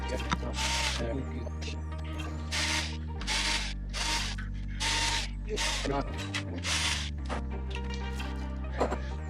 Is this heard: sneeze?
no